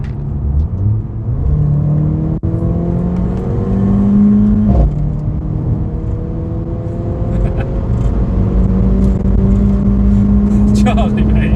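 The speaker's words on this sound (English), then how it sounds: "from those clips I think we can safely say that the A45 AMG sounds pretty special" A Mercedes A45 AMG engine revs from inside the cabin, a loud steady rumble with rising and falling pitch under constant road noise throughout.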